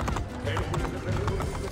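A horse ridden in the video game Assassin's Creed Brotherhood clip-clops along, a quick rhythmic series of hoofbeats at moderate volume mixed with game ambience and a voice speaking.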